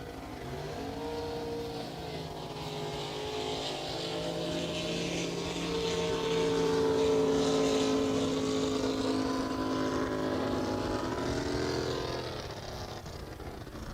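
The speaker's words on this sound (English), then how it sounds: "Jesse James' boat did not sound right that entire pass" A drag racing boat, number 517 nicknamed Outlaw, roars through a qualifying pass with an engine that sounds off, a sustained droning howl that builds to a loud peak in the middle and then fades.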